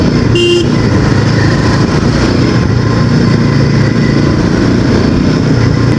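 A Royal Enfield Himalayan 450 motorcycle engine runs loud and close, a steady rumbling drone that holds throughout with a brief higher tone near the start.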